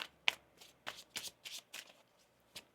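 Tarot cards being shuffled by hand, a quick series of soft riffling and slapping bursts, close and quiet.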